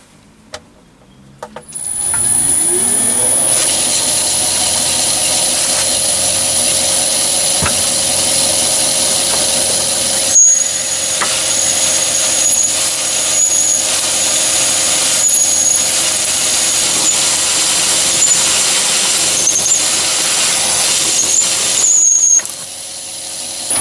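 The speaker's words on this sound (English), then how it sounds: "now I can put in the 14mm drill again and go even deeper" A metal lathe bores deep into a long billet with a 14mm drill, a loud sustained whine and high squeal that spins up quickly and holds for over twenty seconds before the cut eases.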